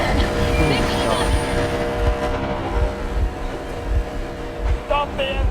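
Boat engine chugging in the game Metro Exodus, a low rumble with rhythmic thumps running under a loudspeaker voice and other game voices throughout.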